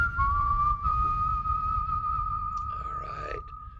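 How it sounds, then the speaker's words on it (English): A whistled melody carried as background music, one clear sustained tune that holds steady notes and glides, playing alone at moderate level over a low hum. "This is actually a whistling song"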